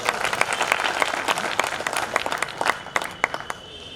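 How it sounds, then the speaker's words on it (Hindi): Audience at a Hindi kavi sammelan poetry gathering in Vidisha breaks into dense, lively clapping, loud and busy at first and then thinning out toward the end. "चलिए एक बार तालियां बजा दीजिए।"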